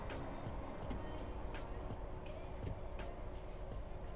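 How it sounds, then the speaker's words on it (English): Diesel train engine in Train Sim World 4, a loud steady rumble with a droning hum and periodic clacks along the rails, and a faint voice speaking over it. "This train is loud. It is a diesel after all."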